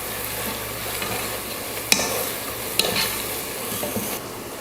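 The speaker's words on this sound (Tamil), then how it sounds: "சேர்த்துட்டு வதக்கி விட்டுருங்க." Ground masala paste fries and gets stirred in a hot pan, with a steady sizzle and a couple of sharp scrapes of the spoon against the metal, close and unbroken, and no voices.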